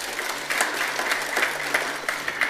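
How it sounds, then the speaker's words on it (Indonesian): Audience applause during a church worship service, a steady dense clapping from a large crowd filling the whole short stretch at moderate loudness with no voices. "Tepuk tangan."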